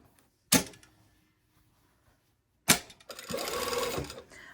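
A sewing machine runs a short stretch of stitching at a 2.5 stitch length on a garment, preceded by two sharp clicks and then a steady whir close by.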